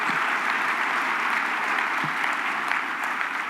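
Sustained applause from a conference audience at a sustainability summit in Denver, a steady dense patter of many hands clapping at even loudness throughout, with no talk.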